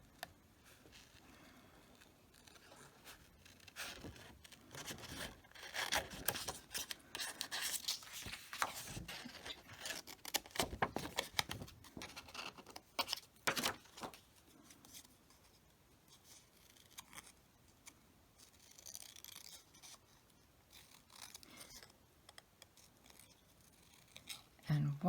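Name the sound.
scissors fussy cutting small paper boots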